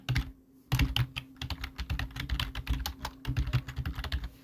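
Steady bursts of key presses on a computer keyboard as a title is typed, irregular clicks following a short pause at the start, close and clear with no talk.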